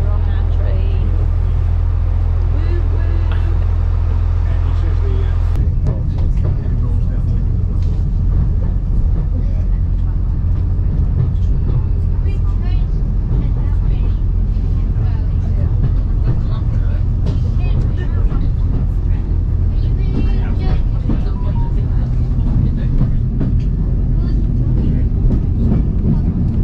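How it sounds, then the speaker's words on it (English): Steady low rumble and rattle inside a moving train carriage near Skipton and Embsay, continuous and loud, with people chatting nearby. "We're on our train."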